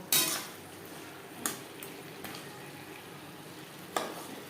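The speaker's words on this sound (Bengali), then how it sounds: "হাই ফ্লেমে আরও দু তিন মিনিট নাড়াচাড়া করে নেব" Potatoes for a katla fish curry are stirred on a high flame, a soft steady sizzle broken by a few sharp metallic knocks of the spatula against the pan, the first one loudest.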